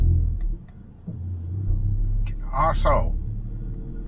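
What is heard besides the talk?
Ford Focus ST Mk4 engine rumble while riding the clutch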